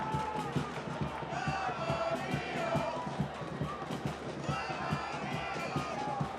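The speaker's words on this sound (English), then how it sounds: "And you can hear the crowd." Soccer stadium crowd at a San Antonio FC versus New Mexico United match, a dense roar of shouts and whistles rising and falling throughout, sounding displeased, with scattered voices near and far.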